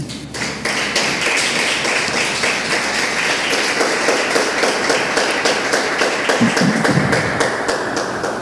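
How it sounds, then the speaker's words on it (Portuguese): Sustained applause from a large church congregation, dense and steady throughout, with a few scattered louder taps and thumps near the end. "Pode aplaudir a Jesus."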